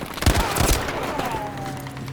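Burst of M2 carbine fire in Battlefield V on a jungle level, a few quick loud shots clustered early, then a lingering ringing tail fading out.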